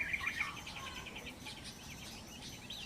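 Wild birds in a mountain forest at a campsite give faint, rapid chirps and trills, a brief louder burst at the start followed by scattered twittering over a quiet background hiss.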